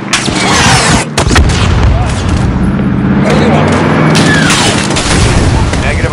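Weapons fire and explosions in Call of Duty Modern Warfare, with loud booms and bursts of gunfire over rumbling battle noise while radio voices talk.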